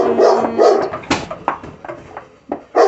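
Dogs at an animal shelter bark in short, sharp bursts, loud and close, with a brief whine early on and uneven gaps between barks.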